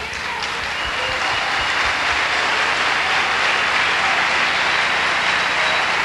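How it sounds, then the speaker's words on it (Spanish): A church congregation breaks into sustained applause during a sermon, a dense, even wash of many hands clapping that holds at a loud, steady level throughout with no voices over it. "Aplausos."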